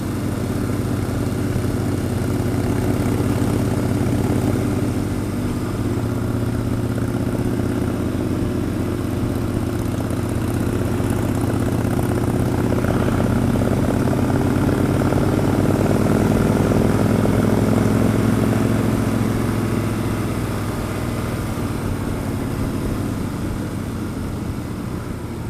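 A Harley-Davidson Sportster motorcycle's exhaust pipes give a steady, droning rumble while riding. It is heard from nearby, at even loudness throughout, with no talking.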